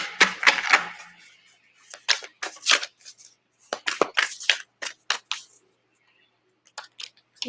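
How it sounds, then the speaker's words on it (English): A stiff deck of tarot cards shuffled by hand close up, with irregular crisp snaps and riffling clicks in bursts separated by short pauses. "I'm going to shuffle that again. Let me shuffle. This deck is a little stiff."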